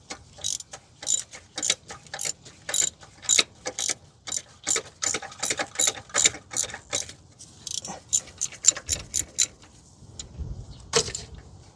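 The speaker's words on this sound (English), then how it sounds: "See if we're able to get the spark plug out." A hand ratchet clicks in quick repeated bursts while loosening a spark plug on a Toyota 2GR-FE 3.5 V6 in a 2015 Sienna AWD, with short pauses between the crisp, close ratcheting strokes.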